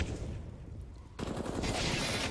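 Gunfire during a Counter-Strike: Global Offensive match, a dense, continuous barrage of rapid shots that thickens and grows louder partway through, with no voices over it.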